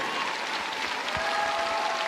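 Steady, dense applause from an arena audience at a figure skating show tournament, continuous and even throughout with a faint musical tone beneath.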